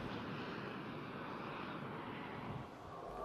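A Sukhoi Su-30 Flanker fighter jet flies overhead as a steady, broad roaring engine rush, heard alone at a moderate distance and easing slightly near the end.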